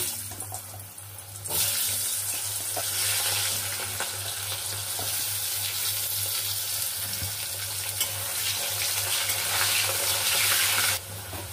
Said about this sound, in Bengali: প্রথমে আমি আলুগুলোকে ভেজে নিচ্ছি।